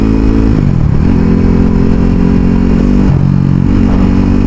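A sport motorcycle, Kawasaki Ninja ZX-10R or KTM RC 390, ridden at a normal pace, its engine droning loud and close with small rises and dips in revs and no pause.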